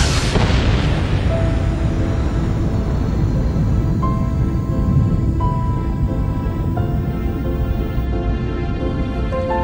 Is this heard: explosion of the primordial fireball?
yes